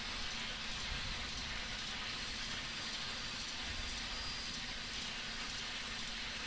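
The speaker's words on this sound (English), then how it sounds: "So we have the air compressor, the cross compound compressors." The cross compound air compressors on an FEF-3 steam locomotive run in Train Simulator 2015, making a loud, steady mechanical roar and hiss that holds without pause, with no speech.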